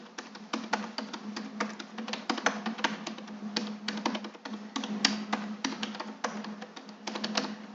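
Rapid, irregular clicking of a computer keyboard as code is typed, close and fairly crisp, with bursts of keystrokes and brief pauses throughout.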